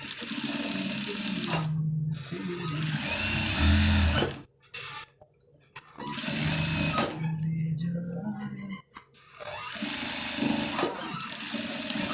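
Sewing machine stitching the side seams and pocket of a kali-style panjabi, running in loud steady bursts separated by short pauses, with a voice talking in the gaps between runs.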